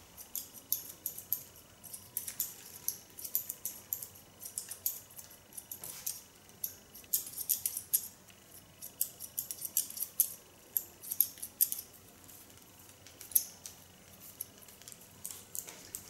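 Scissors snip through a woman's short hair during a haircut guided by a comb, giving soft, crisp, repeated close cuts in an irregular rhythm, with no talk.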